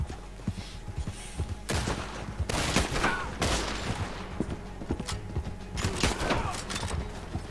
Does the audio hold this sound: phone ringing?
no